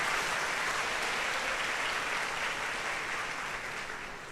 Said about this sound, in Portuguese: dá uma salva de palmas para essa igreja